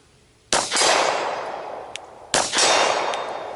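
Two sharp handgun shots about two seconds apart, each a loud crack with a long ringing decay, fired at an outdoor shooting range with no talking.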